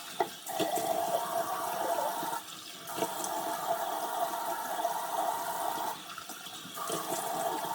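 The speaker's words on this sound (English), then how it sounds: "I'm going to just wash my face properly." Tap water runs steadily into a sink while someone washes their face, a continuous close rush with a few brief dips and splashes.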